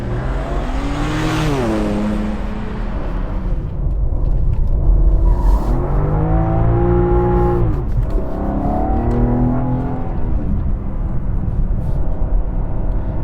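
A 2021 BMW M3 Competition with sport exhaust, its engine droning loudly and steadily, with repeated rising and falling revs as the car accelerates and shifts.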